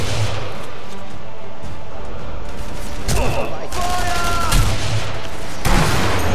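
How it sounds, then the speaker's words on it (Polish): Heavy gunfire in the video game Sniper Elite v2: a dense barrage of rapid shots and bursts, loud and close, with sharper cracks and ringing echoes standing out midway while the shooting keeps up throughout. "Masakra, tyle strzałów"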